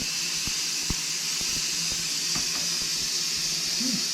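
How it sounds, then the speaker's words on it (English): A steady, loud hiss of steam escaping from a pressure cooker fills the whole stretch without letup, with a few faint clicks and knocks underneath. "We just need to open up our steam."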